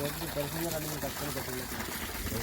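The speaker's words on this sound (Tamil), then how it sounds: "தண்ணி நீட்டாக ஓடுது" Water gushes steadily from a broken borewell pipe, a continuous splashing rush that runs the whole time, with faint voices in the background.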